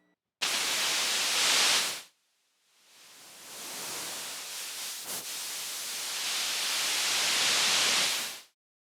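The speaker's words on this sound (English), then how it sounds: "The other place that I really like this fuzz pedal is with a noise channel." Fuzz pedal driving the noise channel of a no-input mixing board, with the cable pulled to make noise: a loud, harsh blast of static hiss that drops out, then swells back in a long, rising wash before stopping abruptly.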